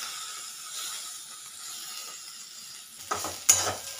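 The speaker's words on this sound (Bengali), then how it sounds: "এবার গ্রেট করা নারকেলটাকেও নাড়াচাড়া করে নিচ্ছি।" Grated coconut is stirred into a banana stem curry in a pan, with a steady low sizzle followed by a few close scraping stirs of a utensil near the end.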